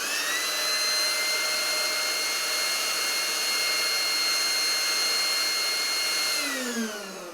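Ingco 20V cordless leaf blower with a variable speed trigger and a 4 amp hour battery, running at a steady high-pitched whine with an airy rush, then spooling down at the end.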